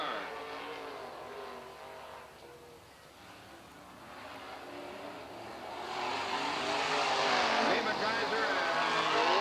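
Race cars roar around the oval at Southern Oregon Speedway, engines building from a steady drone to a louder, nearer surge as a pack passes, with a commentator talking over the racing.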